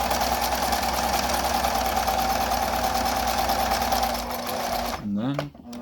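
A sewing machine stitching a mask runs steadily with a close, even mechanical whir for about five seconds, then slows and stops, and a voice speaks briefly at the end.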